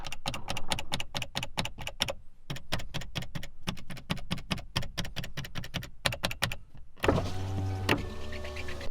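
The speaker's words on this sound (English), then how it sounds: "all of the power windows are broken and I have to replace every single one of them." Power windows motoring up and down in a Mitsubishi Lancer Evo 3 with broken window regulators, a run of rapid clicking and whirring bursts separated by short pauses, ending in a strained motor whine, close inside the car.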